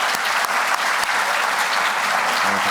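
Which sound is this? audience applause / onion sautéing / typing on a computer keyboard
audience applause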